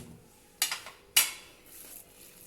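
A spoon knocks twice against a bowl while a chicken kabab mixture is stirred with gram flour, two sharp close clinks followed by soft mushy mixing.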